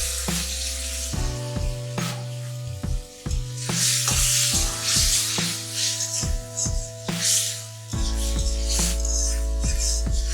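Water poured onto tomato frying in a pan for a hilsa curry sets off a loud, steady sizzle that swells and settles across the whole stretch, with a sustained tonal hum running underneath.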